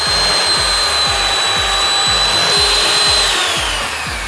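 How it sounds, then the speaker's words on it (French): An electric hand mixer beats sugar in a bowl at home, a loud steady motor whine with a fast regular rhythmic knock running throughout, close and continuous. "Et je vais battre au batteur."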